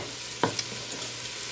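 Ginger and onions frying in a pan, a faint soft sizzle with a couple of quick stirring clicks in a short burst.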